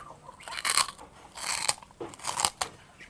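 Crispy chicharon bagnet being bitten and chewed up close, a series of loud crunchy bursts in an uneven rhythm over roughly three seconds, with no talking.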